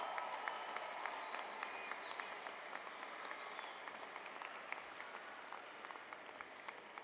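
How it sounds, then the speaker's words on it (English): Graduation ceremony audience applauding their faculty: a dense, even wash of many hands clapping, steady and moderately distant, filling the hall without a break. "let's give a round of applause to our faculty"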